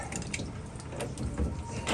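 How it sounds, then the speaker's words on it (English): Water drains from an old washing machine's hose into a bucket, a steady close splashing and trickling with no talk. "we're going to have water come out of here"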